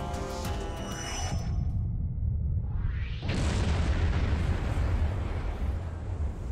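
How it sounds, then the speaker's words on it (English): Star Trek Online starship photon torpedoes launch with rising whooshing tones, followed by a loud, sustained rumbling explosion that fills the space and lingers, with no voices over it. "Koles, increase the yield to photon torpedoes. Torpedoes away, sir!"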